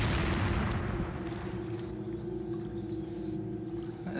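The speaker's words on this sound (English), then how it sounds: "They're all throwing bombs." A loud, booming blast from thrown bombs in Resident Evil 4 on GameCube opens the moment, then rolls into a lingering low rumble with a steady hum beneath, no talking over it.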